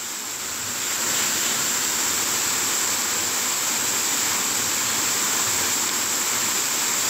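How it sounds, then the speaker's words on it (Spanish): Waterfall at La Rejoya, Puerto Plata, Dominican Republic, a steady, dense roar of falling water heard up close with no voices, constant and loud throughout. "Miren qué cascada más hermosa."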